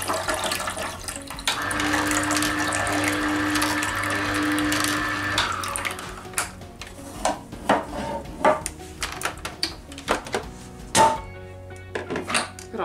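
Rinse water poured out of a Kuvings D9900 juicer, a steady watery pour for several seconds followed by scattered clinks and knocks of plastic parts being handled.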